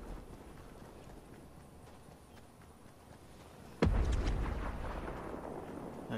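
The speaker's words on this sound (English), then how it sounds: "There's explosions over there." A loud, close explosion in the video game Fortnite bursts out suddenly partway through, followed by a sustained rumbling boom over a steady background of game noise.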